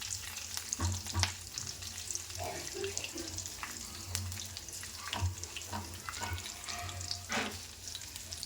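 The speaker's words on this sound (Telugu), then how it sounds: "ఇలా మంచిగా ఫ్రై చేసుకోవాలండి క్రిస్పీగా." Chicken pakodi deep-frying in oil until crispy gives a steady sizzle and crackle, broken by scattered louder bursts and stirring clinks throughout.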